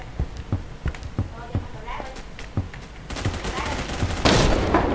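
Gunfire in the Roblox game Phantom Forces: a run of sharp, evenly spaced single shots, then a denser rapid burst that grows louder toward the end, with faint voices underneath.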